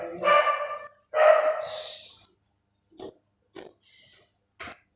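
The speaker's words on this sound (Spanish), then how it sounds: "si ustedes escuchan los dos ladridos" A dog gives two loud, close barks in quick succession, then falls quiet apart from a few short faint snorts and yips.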